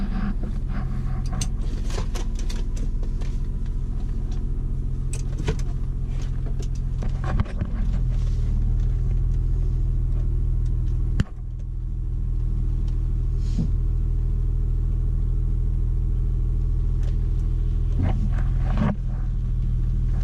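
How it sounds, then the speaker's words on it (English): A Ford Mustang V6 engine idles steadily, a continuous deep rumble close by with a few faint clicks and knocks. "that's the idle. It's this thing. I mean, it's not a bad sounding V6 by any means"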